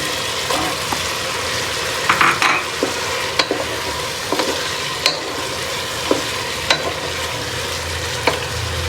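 Eggs and potatoes being stirred and fried in a pan, with a steady sizzle under repeated scraping and clinking of a utensil against the pan, close and fairly loud.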